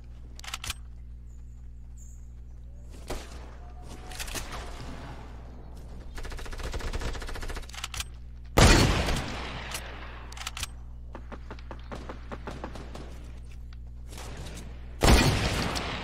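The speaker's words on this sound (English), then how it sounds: "I just sniped one with my hunting rifle" Gunfire in a multiplayer video game with a hunting rifle and other weapons, several loud sharp shots and bursts spaced out over quieter stretches of game noise and a steady low hum.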